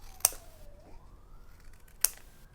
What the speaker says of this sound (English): And then I'll literally just start angling my scissors.